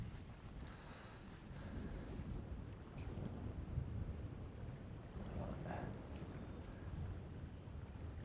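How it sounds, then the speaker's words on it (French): Steady wind gusting over open water while fishing for lake trout from a boat, buffeting the microphone, with faint splashing and a low boat rumble throughout. "Le vent se lève"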